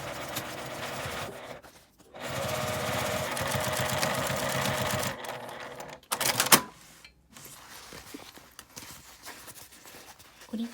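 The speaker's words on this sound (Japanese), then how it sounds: "上端に合わせてミシンで縫います。" A sewing machine runs in steady bursts as it stitches a zipper, laid face down along the top edge, onto a matte laminate pouch. There is a long continuous run, a pause, then shorter start-stop stitching.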